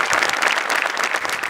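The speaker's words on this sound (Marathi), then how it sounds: "आणि मोठे सरांसाठी एकदा जोरदार टाळ्या" A comedy show's studio audience claps enthusiastically, a dense, even burst of applause that stays loud and close throughout.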